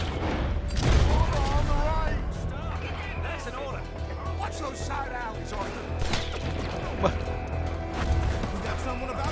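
Gunfire rattles through a chaotic Red Dead Redemption 2 shootout during an ambush, with repeated shots and crashes mixed under frequent overlapping shouted talk.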